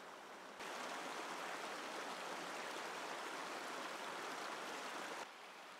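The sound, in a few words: flowing water of a mountain stream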